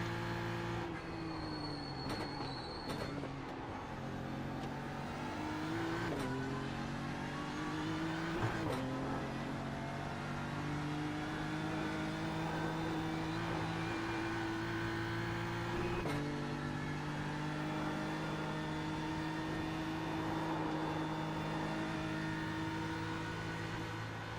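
A Ferrari race car in practice at the Bathurst circuit, its engine note droning loud and steady with gear-shift steps and revving, close by throughout.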